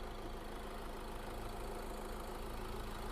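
A Fiat Ducato van's 2.3-litre engine idles steadily and evenly, a low continuous rumble heard up close with no voices.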